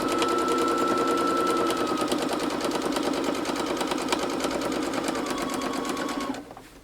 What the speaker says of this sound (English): So I'm just going to go ahead and sew.